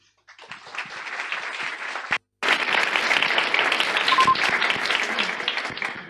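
Audience applause for a speaker at the T3chFest 2024 tech conference, a dense, loud roomful of clapping that stops for a split second and then swells back steadily to the end.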